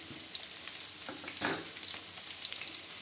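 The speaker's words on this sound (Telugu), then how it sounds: "నూనె బాగా కాగిన తర్వాత ఎర్రగడ్డలు, బాగా చీల్చి పెట్టుకున్న పచ్చిమిరపకాయలు" Onions and slit green chillies frying in hot oil for egg pasta, a quiet continuous sizzle with a few faint stirring clicks and one brief louder burst midway, close up and with no voices.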